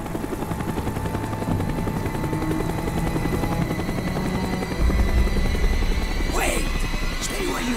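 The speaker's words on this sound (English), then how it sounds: "The chopper is coming around again." A helicopter circles nearby, its rotor chopping steadily and loudly throughout with a heavier thump midway, while voices speak briefly over it.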